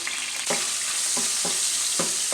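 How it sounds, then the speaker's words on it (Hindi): Steady, close sizzling of food frying in a hot pan, with a few soft stirring scrapes and no voices. "अब मैं इसमें लहसुन डालूँगी।"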